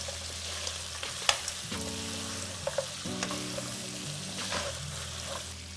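Goat meat (mbuzi) frying in a pan while being stirred, with a soft continuous sizzle broken by scraping strokes and light clicks of the utensil against the pan.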